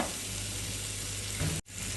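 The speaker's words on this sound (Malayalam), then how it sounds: "ഞാൻ കുറച്ച് ചെറുക്കി ഒഴിച്ചു കൊടുക്കുവാണ്. വിനാഗിരി ഒരുപാട് ഒഴിക്കണ്ട, വളരെ കുറച്ച് ഒഴിച്ചാൽ മതി." Vinegar poured into a hot pan while making green apple pickle gives a steady, close sizzle throughout, with a short clatter and a brief drop in the hiss near the end.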